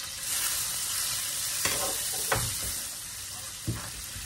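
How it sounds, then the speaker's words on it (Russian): Butter sizzles steadily in caramelizing sugar in a pan for an apple charlotte, a loud close hiss broken by a few soft stirring knocks. "Сюда добавила сливочное масло."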